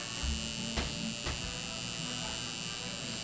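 A tattoo machine running on low voltage gives a steady, weak electric buzz with a faint hum. Two brief clicks break in early on, and the buzz is otherwise unbroken.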